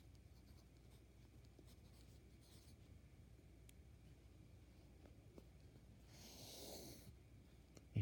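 Faint scratching of a marker writing on a board, soft scraping strokes heard close with a brief louder swish near the end.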